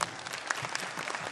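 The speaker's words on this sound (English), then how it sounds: "Give him a round of applause." Audience applause at a community showcase as a performer's child is invited onstage, a brief burst of dense clapping at moderate level with no voices over it.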